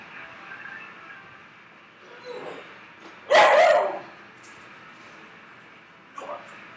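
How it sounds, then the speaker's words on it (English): Miniature schnauzer barking indoors: one sharp, loud bark midway, with a couple of fainter yips and whimpers before and after over a quiet background. "that dog, he's a miniature schnauzer"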